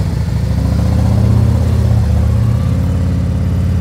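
A motorcycle swings through a slow, wide U-turn, its engine running loud and close with a steady mid-pitched rumble that swells slightly midway.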